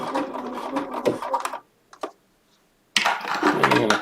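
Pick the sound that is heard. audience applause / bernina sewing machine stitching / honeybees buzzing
bernina sewing machine stitching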